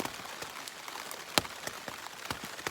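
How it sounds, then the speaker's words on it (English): Rain falls on a tent during a winter camp at Hawk Mountain, making quiet, irregular patters and drips. Occasional louder single drops tap the fabric above a soft, steady background of rainfall. "Been raining for a while"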